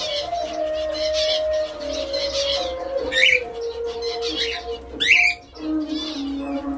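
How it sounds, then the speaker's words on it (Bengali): Pet diamond dove calling at home, soft sustained cooing tones repeated near and clear, with a couple of brief sharper chirps and faint background noise. "কি সুন্দর ডাকছে দেখুন। এটাই হচ্ছে ডায়মন্ড ডাফের বিশেষত্ব"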